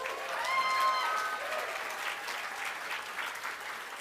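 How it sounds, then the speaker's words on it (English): A crowd at the Braille Challenge Finals awards ceremony applauds for a guest from Adelaide, a steady moderate clapping that persists throughout, with a brief whistle-like tone near the start. "Let's give him a big round of applause"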